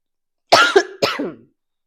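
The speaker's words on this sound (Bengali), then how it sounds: "পুরো কাশি সিজন চেঞ্জ হচ্ছে না এত কাশি হচ্ছে" Two sharp coughs close to the microphone, one right after the other, with brief silence around them.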